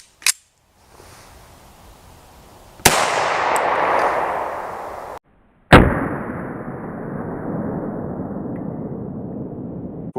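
.45 ACP rounds fired into ballistic gel, sharp loud reports followed by long decaying rumbles, with a short click first and abrupt cutoffs between blasts; no talking.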